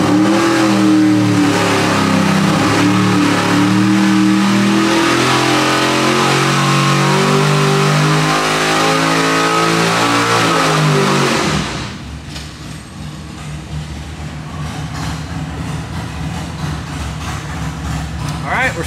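A 1,000 hp 632 cubic-inch big block Chevy V8 on an engine dyno roars loudly under sustained high revs for about ten seconds, then drops abruptly to a lower, rumbling idle; close and dominant.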